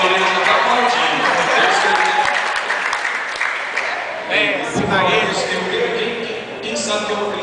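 Loud audience applause at a Christian youth stand-up comedy show, Forte Jovem 2010, with clapping and crowd noise strongest at first, then easing while a voice talks over it.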